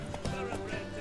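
Roach, Geralt's horse in the video game Witcher 3, gallops with quick, rhythmic hoof clip-clops over a steady game backdrop, with a brief vocal sound mixed in.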